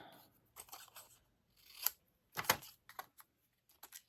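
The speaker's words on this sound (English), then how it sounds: "I'm going to cut this down" Scissors snipping through cardstock while making a handmade Stampin' Up! Christmas card, a few close, irregular crisp cuts with short pauses between them.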